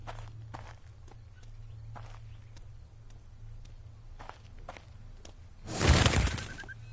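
Evenly paced footsteps in the Incantation horror game, in the style of Fatal Frame 2, tap over a low background hum, then a loud crashing burst near the end.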